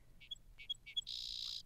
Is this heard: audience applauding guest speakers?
no